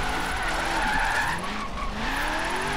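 Car in Forza Horizon 3 drifting through a drift zone, loud tire skidding and squeal over revving engine, sustained across the whole moment with pitch sweeps.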